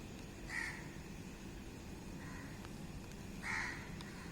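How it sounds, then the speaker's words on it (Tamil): Crows cawing from a perch on a cloudy day, two clear loud calls about three seconds apart with a fainter call between, set against steady outdoor background noise. "ஆங்காங்கே சில பறவைகள் பறக்கிறது குரல் கொடுக்கிறது இங்கே ஒரு காகம் உக்காந்துருக்கு"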